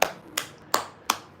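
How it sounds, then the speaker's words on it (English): Four separate sharp clapping or snapping hits, close and dry, spaced evenly about a third of a second apart and used in place of a soundboard applause effect. "this kind of is a soundboard of an applause clapping"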